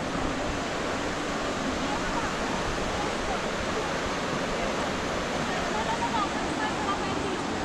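The river at Puente Roto in El Yunque, Puerto Rico rushes in a dense, steady wash of flowing water. The broadband roar stays constant and close, with no pauses.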